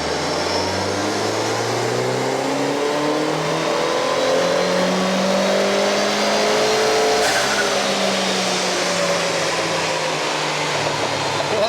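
A Mini JCW car engine revs hard and continuously on a power run, its loud, close drone sweeping up through the rev range, with a faint rushing whine and no talk over it.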